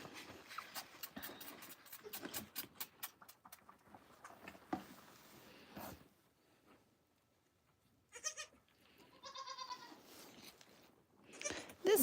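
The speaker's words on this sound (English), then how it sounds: "Mocha is a buckling, which means he's a little boy buck," A baby buck goat on a goat farm bleats in short, wavering cries, mostly in the later part, after a stretch of rustling and patter; the cries are fairly close and clear.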